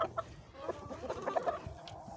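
Chickens cluck in a backyard coop that holds several roosters, with a few short, busy calls close by over low background noise and no talking.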